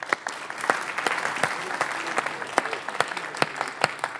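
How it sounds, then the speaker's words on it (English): Sparse, scattered clapping from a small meeting audience, with distinct individual claps rather than a dense roar, fairly quiet and a little distant, thanking a group that has just presented. "a round of applause for group two"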